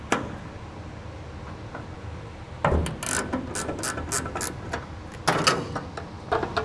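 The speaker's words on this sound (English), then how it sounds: "we're going to tighten those like that. And what it's going to do is pull that riv nut and make it crimp properly." A rivet nut tool ratchets in quick bursts of clicks, faint and then busier, as it tightens and crimps a riv nut during a roll cage pad install on a 1960s GMC/C10.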